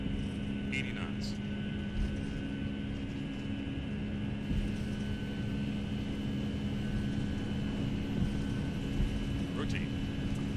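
Boeing 757 engines at takeoff power in the FSX flight simulator, a steady loud turbine roar with sustained droning tones, while a person talks over it.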